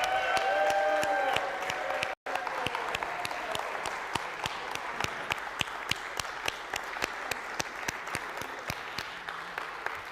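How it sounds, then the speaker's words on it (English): A congregation at the First Unitarian Church of Cincinnati breaks into sustained, loud applause filling the sanctuary, with dense overlapping claps and a few whoops and cheers early on, continuing steadily after a brief cut. "Cheer wildly now."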